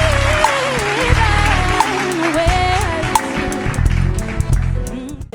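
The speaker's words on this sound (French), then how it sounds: "On applaudit très très fort pour Orphée." An audience claps for a contestant at a 2019 Gabonese young musical talent show, the applause mixed with loud tonal music that carries across the whole stretch.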